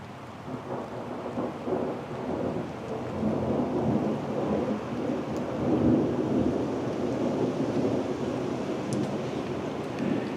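Thunderstorm rolling in on a hot day, with a continuous broad roar of wind and rain and low rumbling thunder swelling and easing steadily throughout, no voices.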